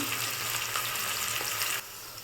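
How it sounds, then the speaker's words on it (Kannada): Sliced onions and green chillies fry in a pan for mushroom biryani, a continuous close hiss of sizzling oil that drops to a quieter level near the end. "ಈರುಳ್ಳಿನ ಸ್ಲೈಸಸ್ ಕಟ್ ಮಾಡ್ಕೊಂಡಿದ್ದೀನಿ ಸೊ ಚೆನ್ನಾಗಿ ಸಾಫ್ಟ್ ಆಗೋವರೆಗೂ ಫ್ರೈ ಮಾಡ್ಕೊಳ್ಳಿ"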